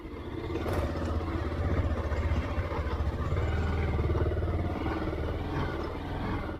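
A vehicle rides over rough off-road ground, its engine a low steady drone mixed with clattering and scraping from the terrain, continuous and fairly close throughout.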